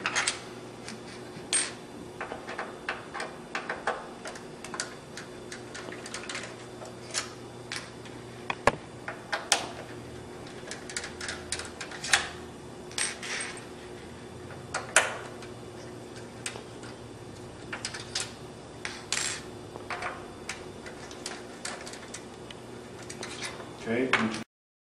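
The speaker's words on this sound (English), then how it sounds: "You want to go ahead and remove those screws." Long screws being backed out of an Xbox 360 top case with a screwdriver give scattered small metallic ticks and clicks over a steady low hum, coming in irregular bursts for the whole stretch.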